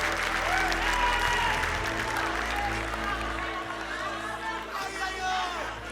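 A worship congregation at an apostle's sermon applauds loudly and steadily, with crowd murmur and a whoop mixed in while a preacher's voice carries over the clapping.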